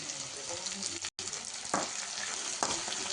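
Onions and curry leaves frying in hot oil with mustard seeds and cumin for a crab masala curry, a steady close sizzle with a brief dropout and a couple of sharper stirring crackles.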